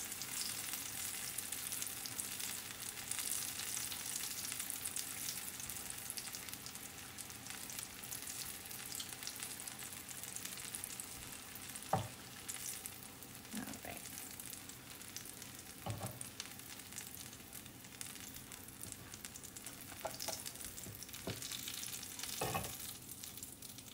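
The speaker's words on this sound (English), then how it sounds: "So now I'm going to continue until all the tacos have been fried" Potato tacos fry in a pan of oil over medium heat, giving a steady close sizzle with bright crackle throughout and a few sharp pops and taps from turning them, with no one talking.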